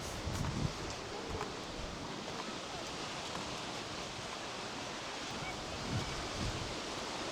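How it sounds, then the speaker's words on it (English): Steady wind and surf wash along a coastal walk in Salou, broadband and constant, with a few soft gusts buffeting the microphone. "It's a wee bit windy, but that's not a bad thing"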